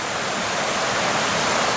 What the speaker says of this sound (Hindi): डेरा गाजी खान में सैलाबी रेला देहात में दाखिल हो गया।